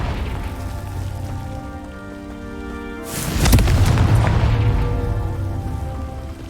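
A Confringo explosive spell goes off in Hogwarts Legacy, a sudden loud boom midway through that rolls into a crackling, rumbling blast and slowly fades over a steady game soundscape.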